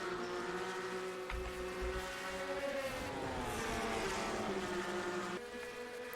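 Race cars lap Bristol in a racing video game, a continuous engine drone with rising and falling pitch as cars pass, steady and fairly loud with no talk.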